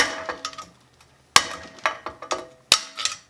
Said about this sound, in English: So these are just old bearings, so we're just going to hammer them out.